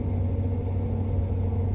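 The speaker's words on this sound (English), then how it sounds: "road noise isn't bad" Steady low road rumble and engine drone from inside a lifted Honda Ridgeline cruising on a highway, constant and even throughout with no talking.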